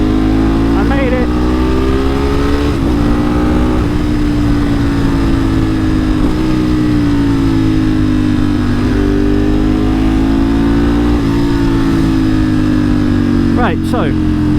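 Ducati 1098S sportbike riding along, the engine loud and close with revs rising and falling in several waves as gears change, and steady wind rush underneath.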